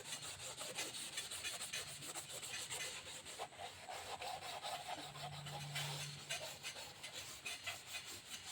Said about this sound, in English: So all I'm doing is just scratching it up. And then I'll go to the Scotch-Brite once again.